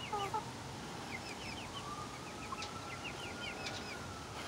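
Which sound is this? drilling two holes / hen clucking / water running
hen clucking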